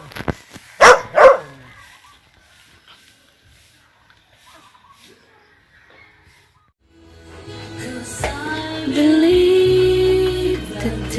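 Dogs bark at a house in two sharp, loud barks near the start. The rest is quiet until louder mixed sound with pitched, voice-like tones builds toward the end.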